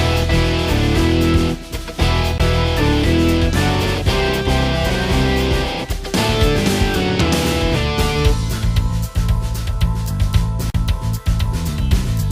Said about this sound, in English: Now you can hear the funk guitarist playing.